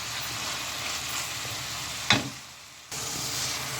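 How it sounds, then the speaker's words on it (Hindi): Mixed winter vegetables with coriander powder, crushed red chillies and turmeric fry in a pan, giving a steady sizzle with one sharp clink partway through and a short quieter dip before the sizzling returns. "इसको अच्छी तरह भूनेंगे"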